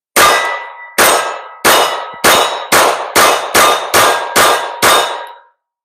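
A Glock pistol magazine is dumped out again and again, giving nine loud metallic clangs at a steady pace, each ringing briefly before the next.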